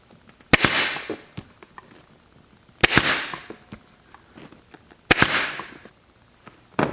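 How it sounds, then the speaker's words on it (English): A Porter Cable US58 pneumatic staple gun fires three staples, each a sharp, loud crack with a brief ringing tail, evenly spaced a couple of seconds apart against near silence. "I'm going to show you what this staple gun can do now."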